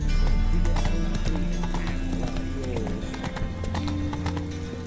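Roach the horse in The Witcher 3, hooves clopping in a quick, even trotting rhythm over a low droning game soundscape, close and loud with a faint whinny.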